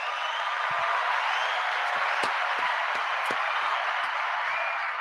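Steady audience applause fills the space, a dense continuous wash of clapping with a few sharper, closer claps standing out, all at an even level throughout.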